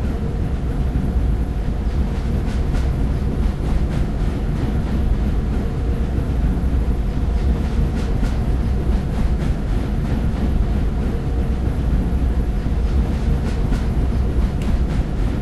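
A three-coach train rolling along the track in the Indian Bikes Driving 3D mobile game, a steady loud rumble with a fast regular clatter of wheels running on for the whole stretch.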